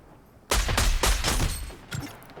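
Rapid bursts of video game gunfire from a long-range weapon in a shooter match, several loud shots in quick succession over about two seconds, then a shorter trailing burst.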